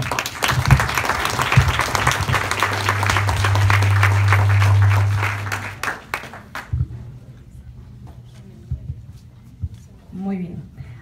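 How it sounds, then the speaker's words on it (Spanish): An audience at a Venezuelan political forum gives sponsors a hearty round of clapping, with a held musical tone underneath. The applause thins out after about six seconds, leaving scattered claps and a voice. "les damos un fuerte aplauso, por favor"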